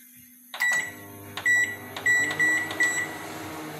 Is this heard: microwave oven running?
yes